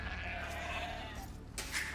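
Sheep bleats from the Age of Empires II early economy, a steady game soundscape with a short bleat rising near the end over constant background noise.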